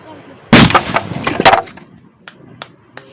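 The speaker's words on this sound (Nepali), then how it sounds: "यस्तो पावर हुँदो रहेछ लसुने पटेकामा चाहिँ" Loud blasts of lasune (garlic) firecrackers, one sharp close bang followed by a second burst, then scattered small cracks and debris ticking as it settles.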